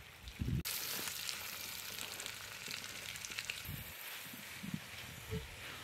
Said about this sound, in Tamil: வெட்டி வச்ச வெங்காயத்தை சேர்ப்போம்